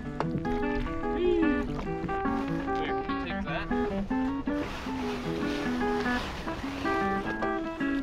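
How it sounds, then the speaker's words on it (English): A small rowboat is rowed against current and wind, with oar strokes and splashing water beneath a steady bed of music-like tonal sound and occasional voices. "Hey, stop rowing for a sec."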